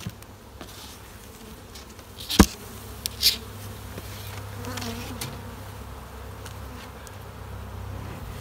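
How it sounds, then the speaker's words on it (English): Honey bees buzz around an open, boosted hive in a steady droning hum, with a few sharp knocks and a close insect passing by, no one speaking. "The bees are going to be a little less good-natured today."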